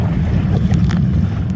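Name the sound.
wind and choppy water while kayaking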